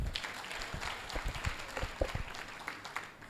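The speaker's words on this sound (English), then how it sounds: "Colleagues, a round of applause again for the VC." An audience of faculty colleagues at a university engineering faculty address applauds the vice-chancellor, a steady patter of many hands clapping in a room, moderate and continuous.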